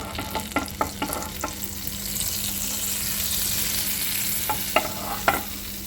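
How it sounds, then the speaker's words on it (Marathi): Butter melts and sizzles in a pan for pav bhaji, a soft continuous frying hiss broken by scraping stirring strokes at the start and near the end. "इथे मी आता बटर घालून घेते आहे पॅनमध्ये आणि कसून घेऊयात आपण सगळीकडे."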